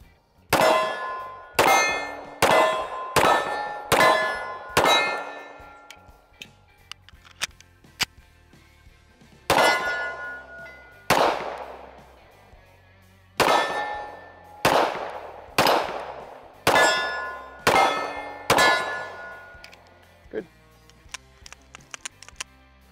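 A PSA Admiral pistol fires its first rounds: roughly sixteen sharp, ringing shots, each with a metallic echo, come in quick strings separated by short pauses. No talking is heard.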